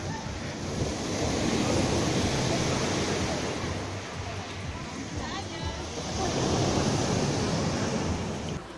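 Steady rushing surf of the Black Sea washes continuously at a small beach in Simeiz, Crimea, swelling slightly near the end, with wind buffeting the microphone throughout.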